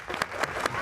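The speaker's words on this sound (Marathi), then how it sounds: "टाळ्या वाजव." Three distinct hand claps sound close by and evenly spaced, over a faint background murmur in an indoor family scene.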